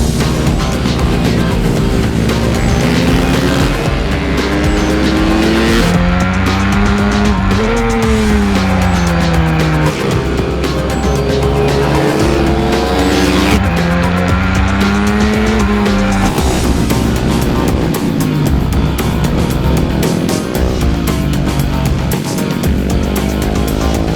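Mini bikes racing around a track in a British endurance race, loud high-revving small engines whining and rising and falling in pitch as machines pass close by, with several engines overlapping continuously.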